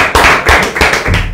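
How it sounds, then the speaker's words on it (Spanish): A studio audience claps for a guest on a Spanish-language radio magazine show, a few quick rhythmic bursts of hand claps, close and loud. "Palmas para Miguel Moreno."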